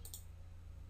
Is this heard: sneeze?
no